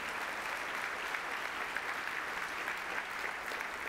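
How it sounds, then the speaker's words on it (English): Steady applause from the audience at a Kubernetes project update keynote, a dense even wash of clapping heard at a distance and fairly quiet throughout. "let's give them a big round of applause and thank them for their contributions"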